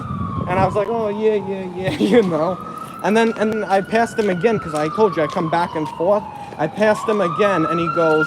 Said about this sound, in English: Yeah, that's the ambulance.